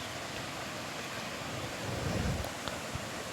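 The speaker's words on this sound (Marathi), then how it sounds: "तिथून पाणी खाली पडत आहे धबधबा" Water plunging from a tall rocky cliff at Randha Falls makes a steady, even roar heard from some distance, softly blended with wind noise and a brief swell midway.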